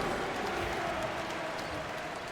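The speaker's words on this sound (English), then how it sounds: "Give yourself a round of applause." Steady NBA arena crowd applause at a Magic–Raptors game, a dense, continuous roar of clapping and cheering, holding fairly even throughout.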